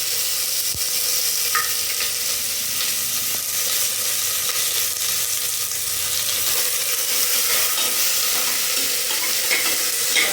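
Onions, curry leaves and chillies fry in a pan for an ivy gourd stir-fry, with a continuous close, even sizzle and occasional soft stirring scrapes, no voices.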